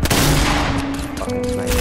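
Rapid bursts of gunfire ring out in the video game Fortnite, a dense crackle of shots lasting under two seconds with little talk.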